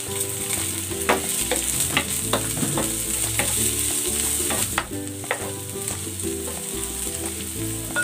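Onion and bay leaf sauté in a hot pan for a chicken dish, a steady close sizzle running throughout with scattered clicks and scrapes of stirring, no voices.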